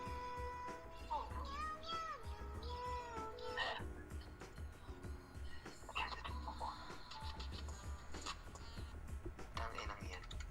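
A cat meows over and over, close and fairly clear, in drawn-out wavering cries with a steady murmur underneath.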